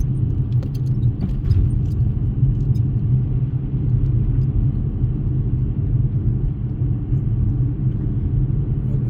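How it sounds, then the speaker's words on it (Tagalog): A car labouring on a road while someone practises driving, its engine giving a steady, loud low rumble that continues without a break, with faint light rattles overhead and no talk. "Kasi parang nahihirapan yung sasakyan."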